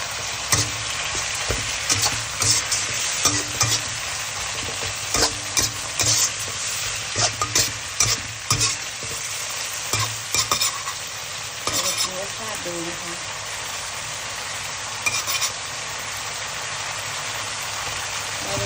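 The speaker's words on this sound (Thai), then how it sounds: "เราจะผัดให้น้ำมันงวดเลยนะคะ" Bamboo shoots stir-frying in oil with no water added, a loud continuous sizzle with frequent scraping spatula strokes over a low background hum, with no voices.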